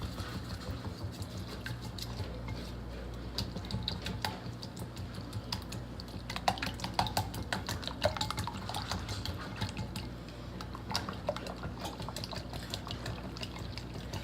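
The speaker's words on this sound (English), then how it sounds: "And whisk." Eggs are whisked in a bowl with rapid, quiet, irregular clicking and tapping that continues steadily throughout, with no talk.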